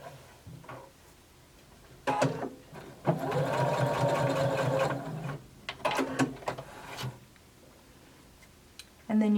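A sewing machine stitches down pleats on a fabric bound buttonhole with a steady mechanical whir and rapid needle ticking, running in short bursts, close and clear, with a person speaking quietly between runs.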